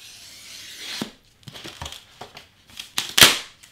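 A Cricut True Blade knife slices through a large craft board in short crunching strokes. A loud crackling rip comes at the end.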